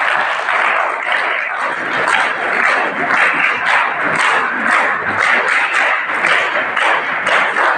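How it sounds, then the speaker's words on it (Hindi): Loud, sustained applause from a school audience at a talk in an Indian residential school hall, a dense steady wash of clapping hands without breaks, close and full. "जोरदार ताली से"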